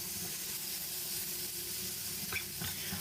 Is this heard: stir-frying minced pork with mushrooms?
yes